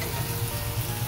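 Water added to frying masala with fish bones sizzles and bubbles in the pan, a dense continuous crackle heard close up with no voices.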